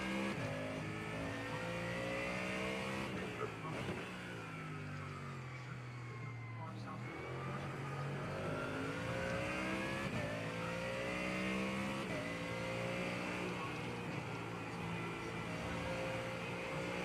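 A GT race car in iRacing at Circuit of the Americas during an endurance race, its engine note rising and falling through repeated upshifts and downshifts with constant droning intensity, while voices talk over it.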